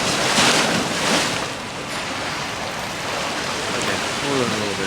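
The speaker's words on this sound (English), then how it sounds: "There's a little bit of a slosh." Water sloshing in the onboard wave pool of the cruise ship Celebrity Millennium, a steady broadband wash of splashing with swells near the start and end, mixed with breeze noise across the open deck.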